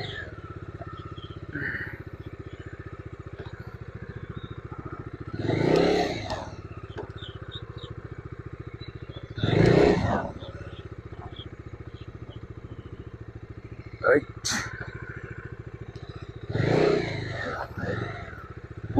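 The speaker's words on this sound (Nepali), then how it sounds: "यो बाइक चाहिँ फेरि फर्काउने लास्टै" A motorcycle is turned around on a rough, unpaved road and ridden off, its engine rising in a few short revving swells over a steady idle, with brief clatters and scrapes in between; no one speaks.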